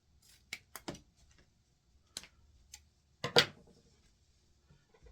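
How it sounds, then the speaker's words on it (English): Scissors snipping off a leftover cardboard flap from a children's DIY shield kit, a few sharp separate snips close by, fairly quiet with pauses between cuts. "So what we can do is just cut that off."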